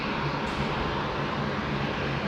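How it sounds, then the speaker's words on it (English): An Alliance Embraer jet taxiing along a taxiway at Brisbane Airport, a steady broad engine roar and whine holding at constant loudness throughout. "Alliance Embraer. Coming along Taxiway Zulu."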